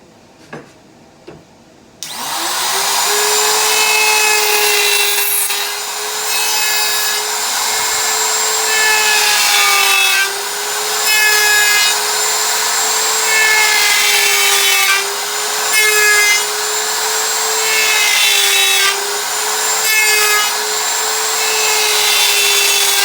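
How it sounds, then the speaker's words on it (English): A power router fitted with a dovetail bit cuts wooden drawer stock in a dovetail jig, starting with a sharp clunk, then a loud, steady high whine with wavering pitch and rhythmic loudness swells as the bit passes through each cut. "here's my first cut on the dovetail jig with my dovetail bit"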